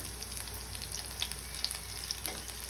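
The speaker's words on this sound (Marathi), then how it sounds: "एक एक करून ही भेंडी आपण पालती करणार आहोत" Okra pieces frying in hot oil in a pan give a soft, steady sizzle with small crackles and pops scattered throughout, quiet and close with no talking.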